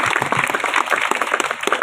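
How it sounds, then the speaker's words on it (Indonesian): Brief lively applause from a congregation at a religious gathering honouring the elders, many hands clapping close and loud with a quick irregular patter. "Tepuk tangan buat orang-orang tua kita."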